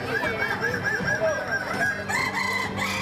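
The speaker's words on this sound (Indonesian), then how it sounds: "berkokok saling sahutan. Iramanya yang panjang dan bertingkat meramaikan gelaran lomba adu ketangkasan kokok ayam balengek." Kukuak Balenggek roosters, an endemic chicken breed from Solok, West Sumatra, crow at a crowing contest, their long, stepped, melodic calls overlapping and answering one another continuously among other birds.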